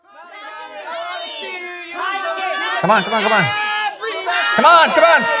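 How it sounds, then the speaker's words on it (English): A group of children cheers and shouts together, their excited voices building and overlapping into loud, high-pitched whoops, with some spoken words mixed in. "Start cheering now."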